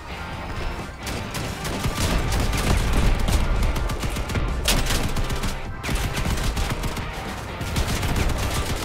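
Spectre-2 machine gun in the vehicle combat game Crossout, firing in dense, sustained bursts of rapid gunfire that run almost continuously, loud and close, with a few brief gaps between volleys.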